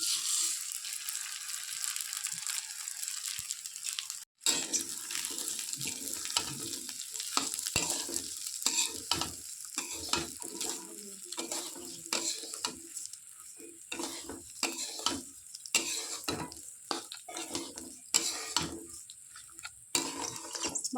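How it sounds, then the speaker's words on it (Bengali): Raw rice for pulao being fried and stirred in a pan, a steady close sizzle broken by scraping, clattering stirs throughout, with one brief pause early on. "ভালোভাবে চালটা ভেজে নিতে হবে, যতক্ষণ না চালটা থেকে একটা সুন্দর মিষ্টি গন্ধ বার হচ্ছে।"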